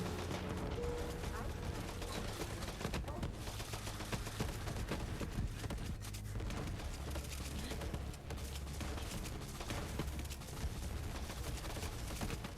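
Steady barrage of shots from a Dahl pistol in Borderlands 3, dense repeated firing mixed with game effects and background music, continuous and fairly loud throughout.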